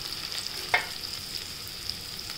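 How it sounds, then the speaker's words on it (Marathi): Onion and salt sautéing in hot oil with turmeric for a fenugreek-seed dal give a faint, even sizzle, with one brief utensil clink near the start. "त्याच्यात कांदा जास्त परतून आला तरी चालतो आणि मीठ तेलात परतून घ्यायचं"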